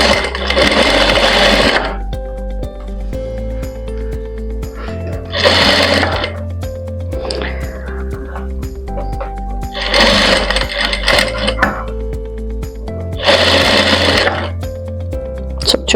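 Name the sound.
sewing machine stitching boutique-style blouse piping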